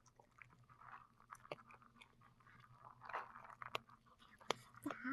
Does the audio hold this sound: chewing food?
yes